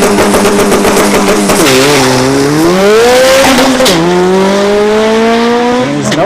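At a dragstrip test-and-tune session, a turbocharged Honda CRX launches hard, its engine screaming and climbing in pitch through rapid gear changes, very loud and close, with tire noise and a roaring wash underneath.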